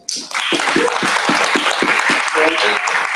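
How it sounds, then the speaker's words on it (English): An audience at the IAAS World Congress general assembly breaks into loud, sustained applause after a brief quiet start, with voices calling out and talking over the clapping. "So please an applause."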